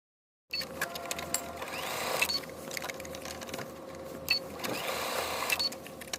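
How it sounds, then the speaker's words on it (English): A sewing machine runs steadily, stitching in the ditch to secure quilt-style binding on a sewn garment, a continuous mechanical hum with a few brief louder bumps throughout, heard alone without talk. "we'll stitch in the ditch to lock it in place"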